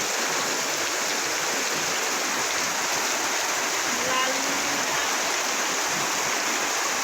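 Strong floodwater current flows through a flooded residential area, a steady loud rushing hiss of moving water that stays constant throughout, with a faint brief voice in the middle.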